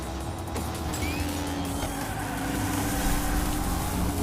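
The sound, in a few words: M3 GT2 toy car driving in video game Hot Wheels Unleashed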